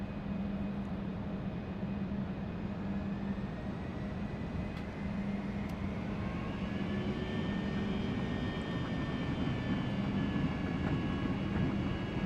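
Airliner engines at full takeoff power in a flight simulator game give a steady broad roar with a rising whine held throughout, no voices.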